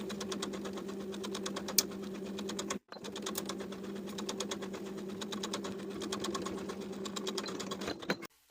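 A sewing machine stitches a collar stand seam with a half-inch seam allowance, running in a steady, rapid rhythmic chatter that stops briefly near the three-second mark, then resumes until it halts just before the end.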